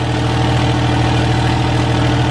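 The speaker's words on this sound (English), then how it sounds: "I'm basically screaming before just to get over the noise of this truck." A Cummins 5.9 diesel engine in a third-generation truck idles loudly with a hood stack fitted, a steady, dense rumble that holds unbroken and close throughout, with no voices.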